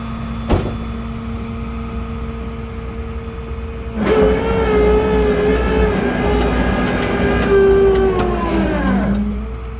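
A big truck drives by with its engine rising in pitch and then dropping, heard up close and fairly loud for several seconds after a quiet start broken by a single click.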